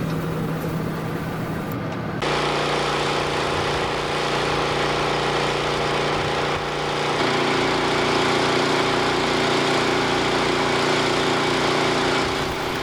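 A John Deere Titan combine harvester straight cutting Canadian hard red spring wheat, with a steady, loud engine drone and a constant whine of machinery running throughout, shifting slightly in tone partway through.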